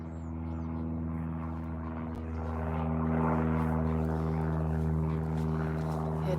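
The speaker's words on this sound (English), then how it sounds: "There's a plane up there." Propeller airplane droning steadily overhead above a marina full of sailboats and pontoons, a continuous low hum with strong tonal bands that swells slightly midway, no talk.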